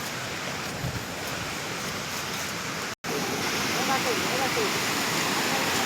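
Ghonsari waterfall in Sindhudurg roars steadily in the monsoon, a dense continuous rush with a momentary cut near the middle, no talk standing out.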